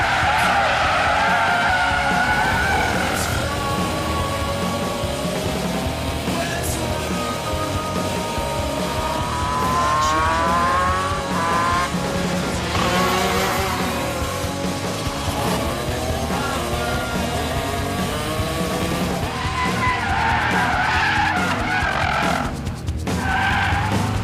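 A Subaru WRX drifts around a kart track with long, loud tire squeals that rise and fall over a constant engine roar, close to the listener and sustained through several slides.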